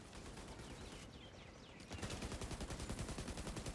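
Rapid assault rifle gunfire in The Division 2 video game, fired at a sniper: dense bursts of shots throughout, louder and more continuous in the second half, with no talking.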